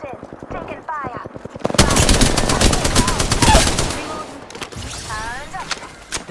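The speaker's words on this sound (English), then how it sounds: "They're shooting at me." Rapid automatic gunfire in Apex Legends rattles in fast, loud bursts, a long sustained stream of close shots, with a voice talking before and after the firing.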